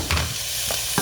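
Red onion sautéing in a pot with garlic and chopped scallion, a brief close sizzle with a couple of stirring clicks.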